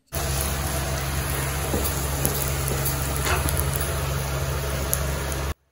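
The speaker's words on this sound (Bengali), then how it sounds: "মা লুচি ভাজছে আর আমি আজকে বেলছি" Luchi, puffed Bengali flatbread, frying in hot oil in a home kitchen, a steady dense sizzle with crackling pops throughout, close and continuous, then cutting off abruptly at the end.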